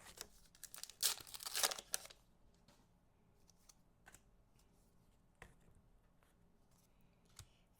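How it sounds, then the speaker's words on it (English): Foil wrapper of a trading card pack torn open in a loud crinkling burst near the start, followed by faint scattered rustles and crinkles in a quiet room. "Foil tear down the idol"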